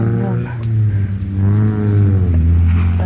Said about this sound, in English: There's so many cars out this morning.